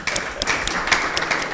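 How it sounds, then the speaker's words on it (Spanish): A brief burst of audience applause for the speakers at a trademark manual presentation, with scattered sharp claps over a steady wash of clapping. "Un aplauso, por favor, para nuestros conferencistas"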